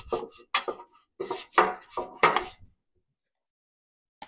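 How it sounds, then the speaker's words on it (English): A brush swishes in several short, scratchy strokes of canola oil against the inside of metal pâté pans, then falls silent apart from one faint final tap. "I'm just going to brush the inside of these pans with this canola oil."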